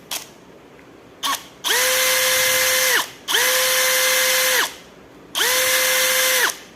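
IBELL brushless cordless drill boring into a wall to mount a dartboard: one short blip and then three loud, steady whirring runs of about one and a half seconds each, separated by brief pauses, close up with no talking.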